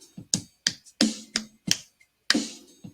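A single person's sharp hand claps tap out a short rhythm pattern, seven crisp strikes in uneven groupings, close and clear with brief silences between them.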